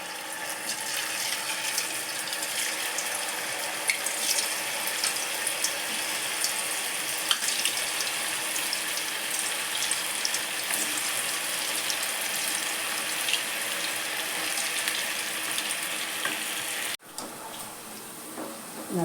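Cauliflower 65 pieces fry in hot oil in a kadai, a steady dense sizzling hiss that runs continuously for the whole stretch, fairly loud and close, with a short clatter near the end.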